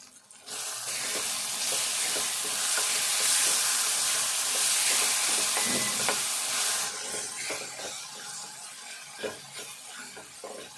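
Cabbage and tomato curry simmers in a covered pan with a loud, steady sizzling hiss that eases after about seven seconds into quieter bubbling and scattered light clicks.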